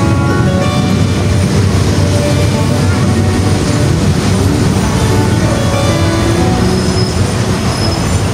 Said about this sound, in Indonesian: Pukul 6:44 kereta api rapid nomor 133 berhenti di stasiun Kumpawapi